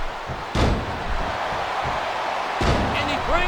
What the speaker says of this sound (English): Smash mouth impact from the face buster.